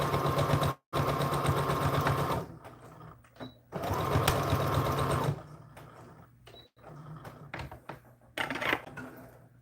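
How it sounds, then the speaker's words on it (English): A sewing machine stitches a bodice to a skirt in bursts, a loud rapid mechanical whirr running about two seconds, pausing, then running again, with brief quieter stops and faint clicks between. "And be careful not to accidentally sew over anything other than what you want to sew on."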